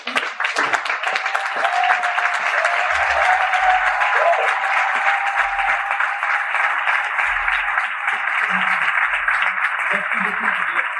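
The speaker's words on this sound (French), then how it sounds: "Je vous demande donc une salle d'applaudissements." An audience applauds to welcome a speaker presenting his start-up at a conference, a sustained, even round of clapping across the whole stretch with a faint voice near the start.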